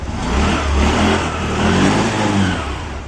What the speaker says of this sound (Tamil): ரேஸும் கரெக்டாக ரேஸ் ஆகுது